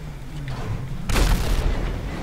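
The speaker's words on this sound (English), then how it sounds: "Okay, that was an explosion." An explosion in the video game GTA 5, a sudden deep boom that bursts out midway over a steady rumbling game background and then fades.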